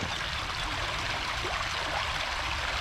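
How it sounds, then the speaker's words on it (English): A creek flows on a conservation area trail at Stevensville, a steady close rush of moving water with a soft gurgling texture, heard alone and continuous throughout. "Last little look at the creek."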